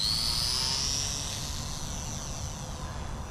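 A small FMS mini RC plane with a geared electric motor revs and takes off, a loud steady buzzing whine that eases slightly as it climbs away.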